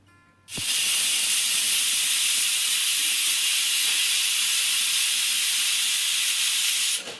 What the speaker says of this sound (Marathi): कुकरचं झाकण लावून द्यायचं आणि कुकरच्या तीनच शिट्ट्या घेऊन घ्यायच्या